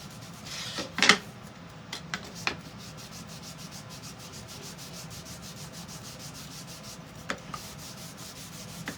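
Soft, close rubbing and scuffing as wax is worked onto a Christmas decoration, with a few brief sharper scrapes and taps early on and a quiet, steady friction sound throughout.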